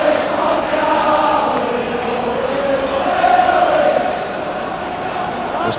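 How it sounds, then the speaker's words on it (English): A large football crowd at Tynecastle stadium during a 1980s Hearts versus Rangers match, a steady dense roar of many voices swelling slightly midway, continuous and fairly loud. "Huge crowd in here at Tynecastle."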